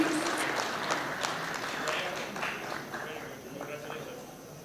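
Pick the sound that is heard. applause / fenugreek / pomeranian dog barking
applause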